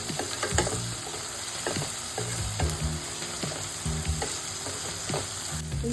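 Chopped tomato fries in a pan with a steady, close sizzle, broken by repeated scraping strokes as it is stirred, with no talking.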